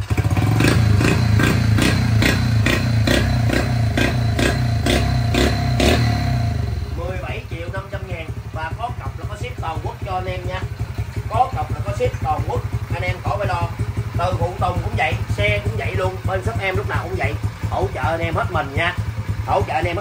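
A Honda CD 100 motorcycle with an original frame idles and runs loud and close, its steady engine note with clattering thumps continuing throughout while a person talks over it.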